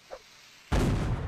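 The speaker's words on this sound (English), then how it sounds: "Firing off cannons yet again." A sudden, heavy cannon blast in the Napoleonic Wars game, a deep booming roar that bursts out after a brief quiet with a small earlier tap, then rumbles on loudly.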